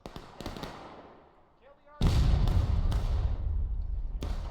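Artillery fire during a 400-player Civil War battle in the video game War of Rights: one heavy, close cannon boom hits midway and leaves a long rolling rumble, with fainter distant shots before it and more bursts after.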